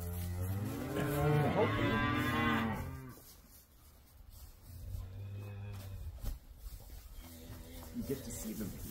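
Cows on a farm moo in long, low, droning calls at close range, the loudest at the start, with fainter moos and farmyard noise following, while hay is handed out to the cattle.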